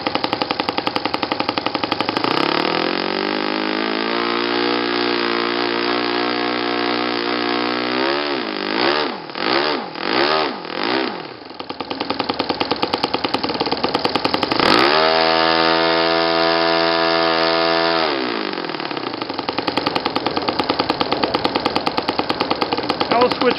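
A YS FZ115S model aircraft engine runs a warm-up under manual throttle with a loud, buzzing whine. It revs up, dips and surges in several quick throttle blips, drops, then climbs again to a high steady scream.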